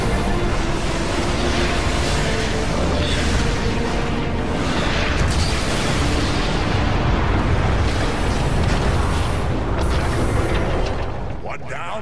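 Heavy explosions roar as Metroplex destroys a warp cannon in Transformers: Fall of Cybertron, a dense, sustained wall of booming blasts and rumbling debris that stays loud throughout, with voices over the din.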